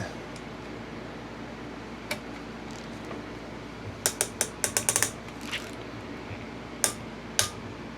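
Torque wrench tightening bolts on a Kawasaki KZ400 engine during final assembly, a handful of sharp ratcheting clicks in a quick burst followed by a few spaced clicks, close and quiet over a low background hum.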